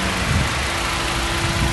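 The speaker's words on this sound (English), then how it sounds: "engine's been running since we started," A 2004 Mini Cooper's engine idles steadily up close, a smooth, even hum with no knocks or rattles, heard alone.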